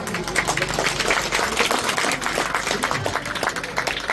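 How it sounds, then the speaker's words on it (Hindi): An audience at a rural women's empowerment awareness gathering held by police in Machhlishahr claps steadily in a dense, even patter, with no voices over it. "एक बार अपने लिए ताली बजा दीजिए आपको।"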